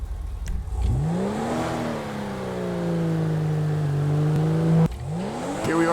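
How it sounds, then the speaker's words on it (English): Turbocharged Comet car engine in the GTA Online video game revving up from idle into a long sustained whining drone, then dropping and climbing again at the end, loud and close. "I love the turbo sound"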